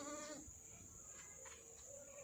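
A goat gives one short, faint bleat at a house. Soft, quiet background noise and a faint insect-like hum follow.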